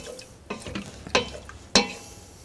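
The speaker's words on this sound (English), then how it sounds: "Stir. Make sure all the onions are in the liquid." Onions stirred into stock in a pot for French onion soup make soft wet sloshes and spoon scrapes, a few distinct strokes with brief splashy peaks, close and fairly quiet without talking.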